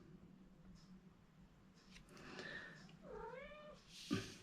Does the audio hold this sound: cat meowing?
yes